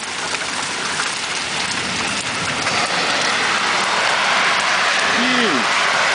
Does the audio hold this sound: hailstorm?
yes